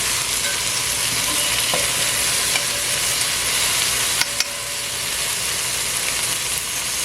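Sliced okra with lime fries in a pan, a dense, even sizzle and hiss that holds steady throughout, close, with a couple of faint clinks.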